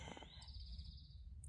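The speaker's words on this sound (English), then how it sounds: "you hear the birds saying goodnight to me" A single faint bird call at dusk high in the Bolivian mountains, a thin rising whistle that settles into a steady trilled note for about a second, with low wind rumble underneath.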